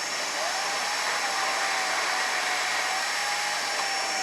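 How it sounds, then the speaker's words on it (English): Jisulife Neckfan 5 neck fan running at full speed, giving a steady, close airy whoosh with a faint high motor whine, constant throughout with no talk. "Oh, now I hear the sound. The fan working more now."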